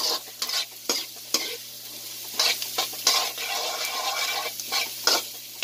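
Carrot strips sautéing in a pan, a steady sizzle broken by repeated scraping stirs of a spatula, close and fairly loud, with no talking.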